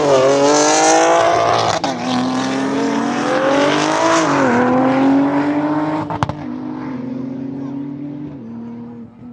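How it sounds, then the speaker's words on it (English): A BMW 340i and a Porsche GT2 launch side by side at a private drag day, engines roaring loud and close, pitch climbing through gear changes, then easing off toward the end. "We got to get two individual sounds from the 340 and the GT2."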